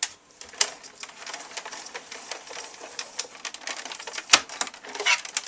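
A Cuttlebug embossing machine feeding a plate and embossing folder through its rollers, giving a string of close, irregular clicks and ratcheting knocks with one sharper clack partway through, no voices.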